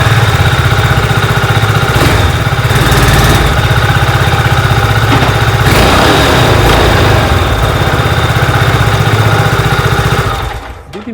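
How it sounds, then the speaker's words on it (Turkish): A Peugeot XP 400 scooter engine idles steadily and loudly up close, a constant throbbing rumble that cuts off abruptly at the end. "sesini dinlemeniz gereken bir scooter"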